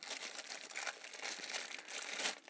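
A plastic bag from a microscope kit being handled, giving close, continuous crinkling that rises and falls in irregular bursts, with no voices.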